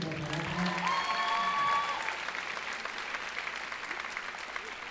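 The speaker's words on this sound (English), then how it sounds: "Another round of applause for this amazing" An audience at a high school winter concert applauds in a sustained round, with an amplified voice speaking over the start before the clapping carries on alone.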